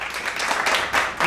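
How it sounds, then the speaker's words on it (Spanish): Brief, lively clapping for a pianist at a casual family gathering with friends in Lima, Peru: a short burst of several hands applauding close by, uneven and informal. "Palmas, palmas, eso para el pianista."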